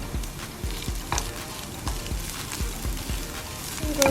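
Browning onions and garlic fry in a pan with a steady close sizzle, broken by regular soft taps and scrapes of stirring.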